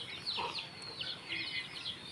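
Pet chickens cluck at feeding time with corn and rice, a few soft, irregular clucks and calls close by over a constant background hiss, with no talking.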